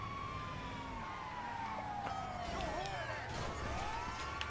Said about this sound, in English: turn on sirens, we're blending in